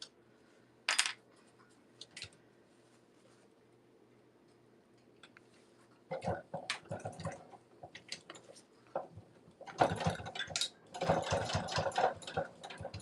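A sewing machine stitches down the edge of a vinyl window pouch in rapid bursts of mechanical clatter, starting and stopping over quiet pauses with a few small clicks and handling noises, close and fairly soft.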